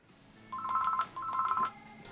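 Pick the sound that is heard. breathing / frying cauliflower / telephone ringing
telephone ringing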